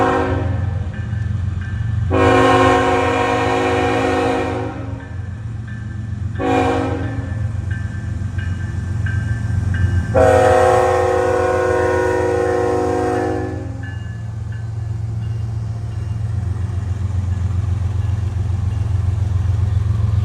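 A CN GE Evolution locomotive passes loud and near, its horn giving two long blasts and a short one between them over a constant low engine and rail rumble.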